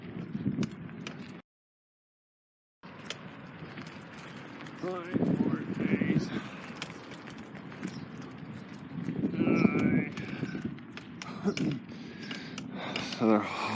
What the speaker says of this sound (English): So they're hosting some horses.